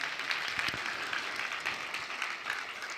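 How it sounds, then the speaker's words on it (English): Audience at the Open Arms Perinatal Services spring luncheon giving a steady round of applause, moderately distant and fairly quiet, sustained throughout without a break. "Would you give them all a big round of applause?"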